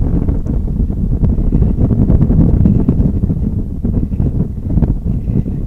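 Strong, gusty wind roars across an airport, blowing hard and steadily into the microphone as a loud, continuous rumble with no talking.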